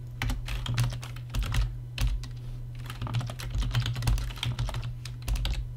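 Fast typing on a computer keyboard while entering a new folder name: dense, close key clicks in bursts with short pauses, over a steady low hum.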